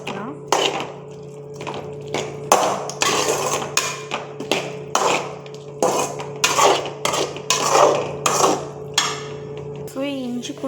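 A spoon scrapes and clanks against a cooking pan in repeated bursts while ginger garlic paste is stirred, loud and close, with a steady hum beneath.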